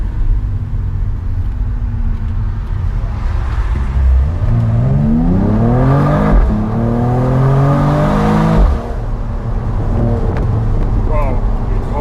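Mercedes-AMG E53 Cabriolet from 2022 on the move, its engine a steady loud rumble that swells into a rising rev and gear-change sweeps midway, then settles back under road and wind noise.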